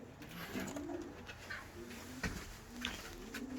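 Pigeons coo inside a loft, soft repeated throaty calls from several birds close by, with rustling and shuffling around them and no talking.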